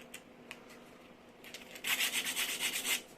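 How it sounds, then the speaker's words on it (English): Sandpaper of 150 grit rubs a freshly cut metal slot to deburr it, starting with faint scattered scratches and then breaking into a short run of close, rhythmic back-and-forth strokes. "Now if we just deburr this a little, just a 150 grit sandpaper"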